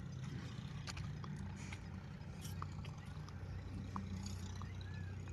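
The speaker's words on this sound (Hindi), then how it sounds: "ये ट्रैक्टर की आवाज़ यहाँ से आ रही थी आपको। ये लेवल करने के लिए ट्रैक्टर चल रहा है खेत में" A tractor levelling a farm field rumbles low and steady in the distance, a faint continuous engine drone with scattered small outdoor sounds over it.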